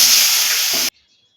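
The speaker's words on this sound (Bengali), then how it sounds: "এবার এটাকে আমি এর মধ্যে লাউগুলো আমি ছেড়ে দেব" Bottle gourd pieces hit hot oil seasoned with mustard seeds and dried red chilli, a loud, close hissing sizzle that cuts off abruptly after under a second.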